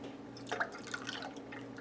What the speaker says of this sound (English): Now, our dissolved lye, we're going to very carefully pour this in.